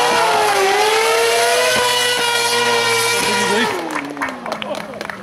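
A stunt car performs a burnout at a hill climb show in Quily, its engine held at a loud, steady high rev with a drawn-out whine before breaking into rougher bursts and crowd noise, while a commentator talks throughout.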